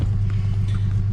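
A Honda car engine idles at a steady, low rumble close by, a continuous even hum with no other sounds.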